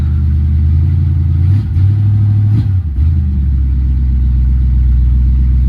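A 1964 Plymouth Valiant engine running at high idle after a carburetor rebuild, a loud close steady rumble with two brief dips and recoveries midway before settling back to an even idle.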